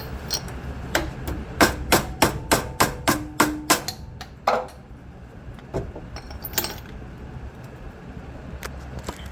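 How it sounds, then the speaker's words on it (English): Rapid series of sharp metallic hammer strikes on a screwdriver knocking an old control arm bushing off a BMW E46, about a dozen in quick rhythm, then a few scattered knocks and clinks over a low background hum. "then use the screwdriver and a hammer to knock the old bushing off"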